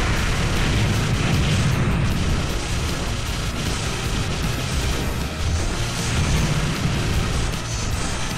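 A bomb goes off in the shoot-'em-up game Raiden IV, a loud, sustained booming roar of explosions that rolls on continuously, swelling and easing slightly over several seconds.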